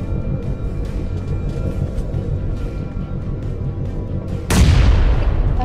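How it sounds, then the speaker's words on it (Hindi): In a mobile military-base shooter game, a thrown bomb bursts in a single loud, close boom that rolls into a rumbling tail. Before it come faint background game sounds and scattered distant pops. "मैं तुक्के में एक बम फेंकता हूँ"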